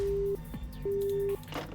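A telephone in the Zero Escape: Virtue's Last Reward game sounds two steady electronic call tones, each about half a second long with a short gap between them, over faint clicks and soft rustling.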